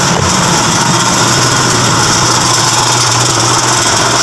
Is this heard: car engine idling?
yes